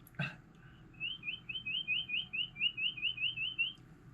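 A person imitates a bird call, starting with a short sharp sound and then giving a quick series of rapid, evenly spaced whistled chirps over faint background noise.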